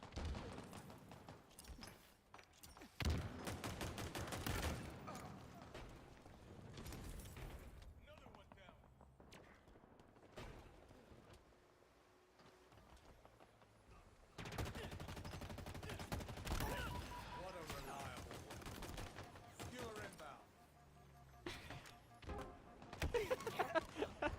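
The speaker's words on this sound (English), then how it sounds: "I believe it was the pistol that you were seeing" Pistol fire and other weapons in the Halo Infinite campaign, played co-op, sound in dense overlapping volleys and booms over a busy game soundtrack throughout, loud and continuous.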